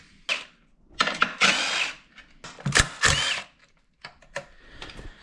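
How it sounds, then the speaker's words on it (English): A power tool spins off 10mm nuts and bolts holding the air intake cover on a Honda/Acura V6 J-series engine, several short close bursts of whirring separated by brief pauses. "removed all the 10mm nuts and bolts holding this whatever kind of cover you'd want to call it for the air intake"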